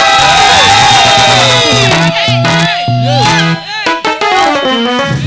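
A church congregation at a Sunday service cheers and shouts with joy, a loud continuous crowd roar with whoops and raised voices, while music plays underneath.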